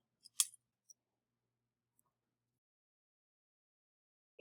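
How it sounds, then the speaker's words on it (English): Scissors snip through macrame string, a quick cluster of sharp close snips followed by a single click, then near silence in a quiet room. "You're going to cut one more length of string that is 12 inches long."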